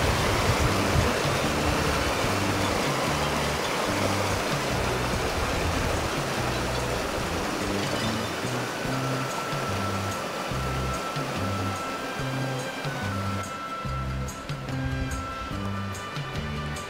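A river stream flowing near Bigar waterfall on a forest trail, with steady, broad rushing water heard up close and continuously throughout, no voices over it.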